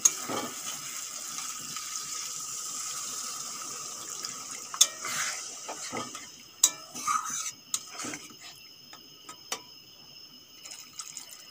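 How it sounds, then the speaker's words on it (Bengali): Water poured into well-fried spiced masala for a spicy kasha egg curry, followed by stirring with utensil clinks and scrapes against the pot over a steady background hiss; no one speaks. "এখন জল দিয়ে দেব।"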